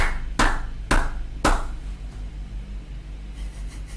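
Three sharp hand claps, evenly spaced and close by, ring out in a quiet room, then trail off into soft background noise.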